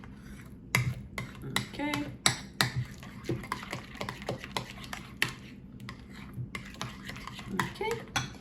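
Breakfast ingredients for a fruity chocolate probiotic treat being mixed in a bowl, with irregular clinks and scrapes of a utensil against the dish, close, and a brief voice at the start.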